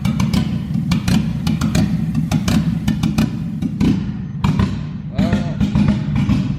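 A K997 engine running roughly just after its first start, a loud, uneven low rumble broken by irregular knocks and thumps, close by.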